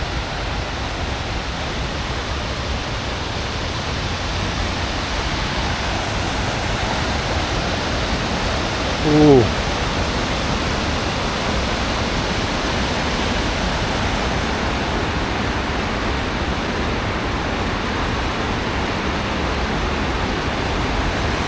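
A waterfall in the Ukrainian Carpathians roars steadily and loudly, a dense unbroken rush of water with no voices, one brief louder splash partway through.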